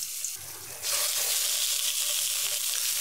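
Pieces of mud carp sizzle in hot oil with ginger slices in a wok, a loud steady frying hiss that jumps up sharply as the fish goes in and then crackles on continuously.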